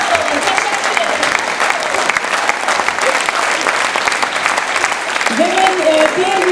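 An audience at a choir concert applauds loudly and continuously, a dense sustained clatter of many hands with a few faint voices and a brief melodic tone near the end.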